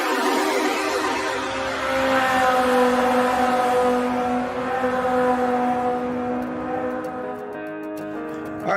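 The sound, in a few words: racing cars from video game Supercar Street Racing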